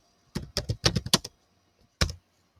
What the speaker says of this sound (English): I'm typing ipconfig